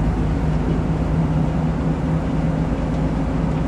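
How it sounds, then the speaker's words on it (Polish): A car engine drones steadily from inside the cabin during a driving lesson, a continuous low hum at an even level with no clear rise in pitch and no talk. "I gaz, gaz, gaz."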